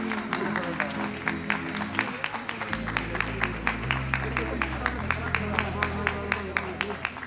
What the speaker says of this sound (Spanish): Mira qué aplauso, oye,